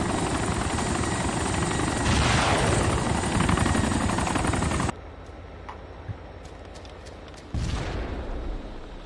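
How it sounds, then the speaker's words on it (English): A helicopter in the combat video game ARMA II roars with a loud, continuous rotor and engine drone, then drops to quieter background rumble with scattered gunfire pops before the engine noise swells again. "Who the fuck flying this helicopter with me?"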